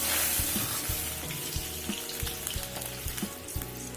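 Milk poured into hot ghee in a kadhai sizzles and crackles close up, a busy frying hiss with repeated scraping stir sounds throughout.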